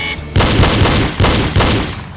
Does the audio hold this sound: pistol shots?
yes